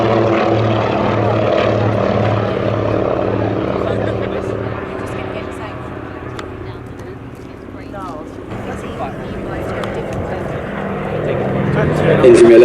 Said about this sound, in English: Now, taking off on runway 21, we have the beautiful Lockheed 12A Electra Junior.